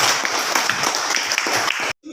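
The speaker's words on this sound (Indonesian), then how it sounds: "tepuk tangan untuk Yunus." Applause fills an Indonesian classroom, a steady dense patter of many hands clapping near the microphone for about two seconds before cutting off abruptly.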